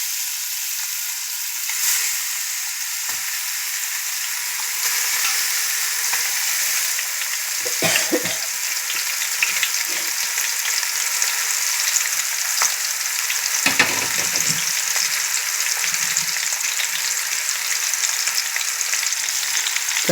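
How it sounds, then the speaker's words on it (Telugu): Pieces of pomfret fish fry in hot oil, giving a steady, close sizzle and crackle throughout, with occasional scraping and handling sounds. "చేప ముక్కలు వేసుకొని వాటిని కొంచెం నూనెలో కొంచెం ఫ్రై చేయాలి."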